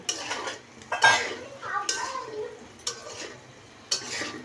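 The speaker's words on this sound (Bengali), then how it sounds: "লবণ দেওয়ার পর আমরা একটু নেড়ে চেড়ে নিচ্ছি" A spatula stirring salted potato curry in a metal pan, several clattering scrapes and knocks in uneven bursts with a light frying sizzle between them, close by.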